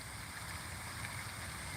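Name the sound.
water flowing by the shore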